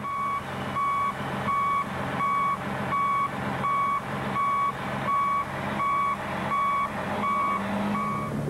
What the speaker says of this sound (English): Even though the reverse alarm is sounding, you still need to look behind you before and while backing up.